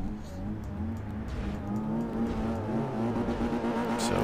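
A Mazda MX-5 NB in Forza Motorsport 4 revs its engine for a standing race launch at Suzuka West Circuit, a steady, buzzing four-cylinder drone that holds loud and close throughout.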